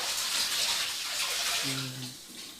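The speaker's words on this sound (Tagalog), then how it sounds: "So, tuloy-tuloy naman yung tubig dito sa amin." Water pours continuously from a tap as a steady, close hiss and splash, with a brief low tonal sound partway through.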